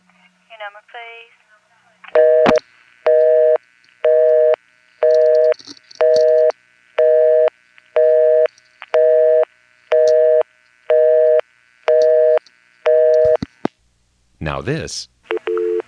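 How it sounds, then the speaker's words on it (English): An incoming-call signal on a 1977 NX1-E telephone exchange in Vanceboro, North Carolina, sounds as a steady run of about eleven evenly spaced beeping tone bursts. Short speech comes before and after it. "is just the noise that tells her a call has come in"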